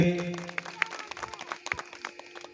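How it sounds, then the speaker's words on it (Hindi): Scattered hand claps from a small crowd at a village Ambedkar Jayanti gathering in Chaurai, sharp and irregular, fairly faint and thinning out over a couple of seconds. "जोरदार ताली से स्वागत करेंगे।"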